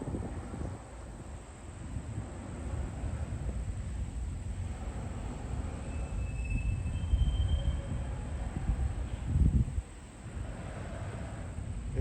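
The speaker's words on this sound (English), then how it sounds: "So there's a train." Double-stack container freight train crossing a big concrete bridge, a distant continuous low rumble and rattle with wind buffeting the microphone, swelling slightly toward the end.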